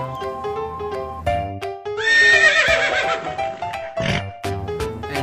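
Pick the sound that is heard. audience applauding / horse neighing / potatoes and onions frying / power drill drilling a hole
horse neighing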